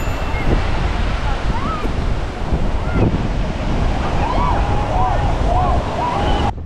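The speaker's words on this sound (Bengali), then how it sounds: "আমরা এখানে গাড়ি থেকে নেমে সমুদ্রের গর্জন শুনতে পাচ্ছিলাম।" Sea waves roaring on the open, quiet shore at New Digha beach, a loud continuous broadband rush with wind buffeting the microphone and faint distant whistling tones above it.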